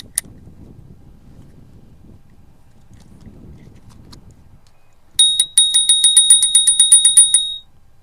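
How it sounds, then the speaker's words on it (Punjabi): A bicycle bell rings in a quick run of bright, close metallic dings over about two seconds, following a quiet stretch of low rumble and handling noise. "ਤੇ ਇੱਕ ਆ ਟੱਲੀ ਆ"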